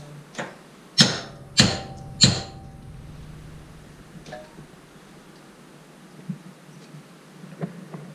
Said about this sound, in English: Needs a little bit more of a love tap.